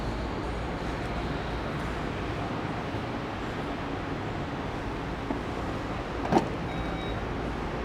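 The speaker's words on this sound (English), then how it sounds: "Power opening and closing trunk." Power trunk on a 2022 Porsche Taycan GTS running open and closed, a faint low electric motor hum under steady background noise, with a brief latch click near the end.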